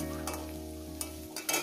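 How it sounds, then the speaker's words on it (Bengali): Coriander leaves and onions frying in a pan give a low sizzle under a steady hum, with a few scraping stirs and spatula knocks toward the end, quiet and close. "ধনে পাতাটা দিয়ে 1 মিনিটের মতন আমি নাড়াচাড়া করে নেবো"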